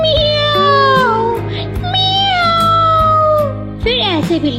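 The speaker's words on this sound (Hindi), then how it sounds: "म्याऊ" A cartoon cat character lets out several long, loud, drawn-out meows in succession, each sliding downward in pitch, voiced close and up front.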